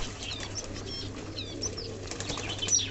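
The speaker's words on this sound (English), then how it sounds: "As you can see, so many birds are in this small bowl and staying in water" Fancy pigeons bathe together in a small water bowl, giving repeated bursts of close wing flapping and fluttering, with a few faint chirps and no talking.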